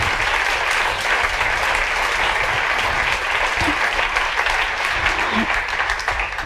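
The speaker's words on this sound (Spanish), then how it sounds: "Así que darles un fuerte aplauso." Steady, dense audience applause fills the room at an art and artificial intelligence event hosted by Fundación Telefónica, many hands clapping continuously and evenly throughout without pause.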